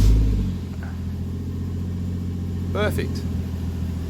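A warm Toyota 1JZ engine with broken engine mounts running at a steady idle, briefly revving up once near the end. A single short spoken word is heard.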